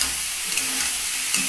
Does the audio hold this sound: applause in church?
no